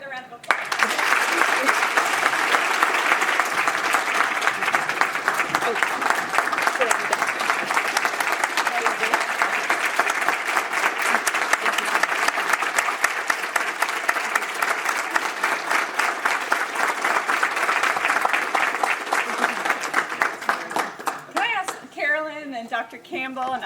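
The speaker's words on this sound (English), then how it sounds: "Let's give her another round of applause." An audience gives a presentation speaker a long, dense round of applause that continues steadily before tapering off, with a voice starting to talk at the end.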